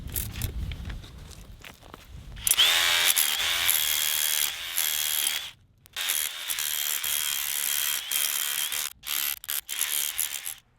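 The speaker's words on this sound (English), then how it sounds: "it's a good DEWALT tool, but it's nothing like a big jackhammer" A DEWALT power hammer busts concrete in loud, rattling bursts. Long runs of hammering are broken by short pauses, after a quieter start.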